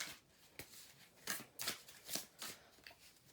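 Tarot cards being shuffled by hand, a series of crisp riffling bursts repeating at an uneven pace, close and fairly quiet, with no talking.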